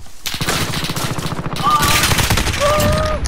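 Rapid bursts of video game gunfire crackle continuously, with overlapping shots and a few whizzing tones mixed into the dense barrage.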